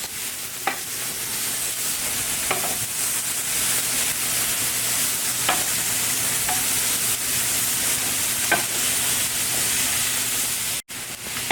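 Balsamic pork kebabs sizzle steadily on a hot grill, a constant frying hiss broken by several light taps and scrapes as the skewers are turned over, with no speech.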